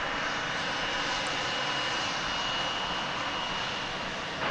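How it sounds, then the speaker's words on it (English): A 20th-century aircraft engine at a busy airport roars steadily and fairly loud, a continuous broadband drone that holds throughout with no talking. "there is its audio salute as a 20th century aircraft"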